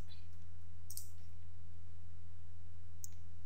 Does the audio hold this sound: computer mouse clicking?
yes